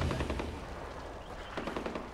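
Rapid automatic gunfire and shots from the video game Far Cry 4, a dense, continuous loud burst of machine-gun style firing that persists through the whole stretch with a renewed volley near the end.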